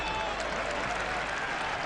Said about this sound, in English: Applause for Navas.